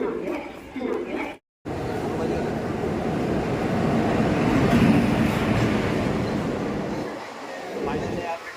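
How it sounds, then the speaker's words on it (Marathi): Broad rumbling roar of a train rolling in, swelling then easing, with crowd chatter and voices around it on a busy platform. "आपण पाहू शकतात आपली ट्रेन आता येत आहे"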